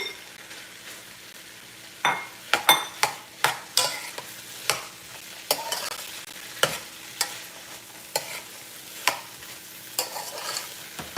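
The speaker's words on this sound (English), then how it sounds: "I cut them very fine, so I'm gonna fry up the okra here" Finely cut okra frying in a pan, a steady broadband sizzle with a dozen or so sharp clinks and scrapes of a utensil stirring at irregular intervals, close and fairly loud.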